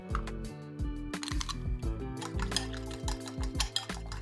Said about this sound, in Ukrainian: Збиваємо яйця.